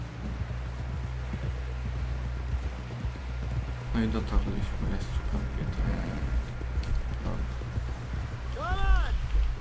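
Steady clip-clop of horse hooves from riding in Red Dead Redemption 2, a continuous rhythmic trot under someone speaking, with a low rumble throughout.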